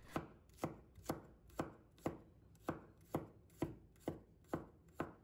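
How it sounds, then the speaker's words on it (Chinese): A knife chops garlic into fine mince on a board, with about eleven sharp, evenly spaced chops in a steady rhythm, close and alone. "大蒜切好以后，我们要把它剁成蒜末，剁细一点。"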